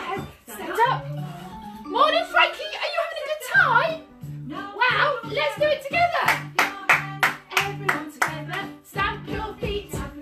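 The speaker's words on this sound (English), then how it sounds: "Clap your hands" Children's action song with voices singing and rhythmic hand claps keeping time, the claps falling as regular sharp beats beneath and between the sung lines, close and fairly loud.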